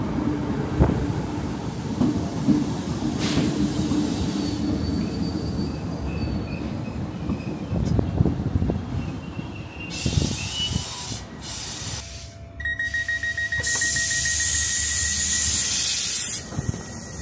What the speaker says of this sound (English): I'm going to board the train now and let's head to Seapoint